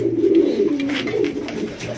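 A soldier pigeon coos steadily and close by, a low rolling call that holds throughout with a slight rise and fall and no talk over it.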